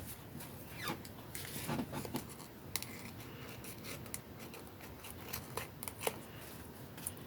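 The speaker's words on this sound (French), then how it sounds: "je vais le couper. Où sont mes petits ciseaux?" Small scissors snip paper for handmade cards made from recycled materials: a scattering of light, crisp cuts and rustling paper, quiet and close, with no voice.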